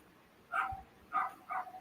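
A real dog barks three times in quick bursts, sharp and fairly close, with quiet pauses between each bark and no talking over it.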